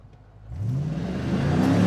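An ICON Derelict hot rod engine roars up from near quiet, revving hard and climbing steadily in pitch and loudness, close by, with a bit of tire spin.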